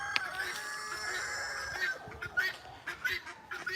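Easter Egger hens cluck and squawk in short irregular calls at a middling distance, some sustained and some clipped, over a faint background hiss.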